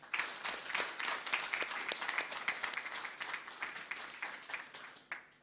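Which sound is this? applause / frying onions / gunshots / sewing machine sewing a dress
applause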